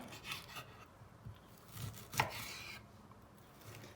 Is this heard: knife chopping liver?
yes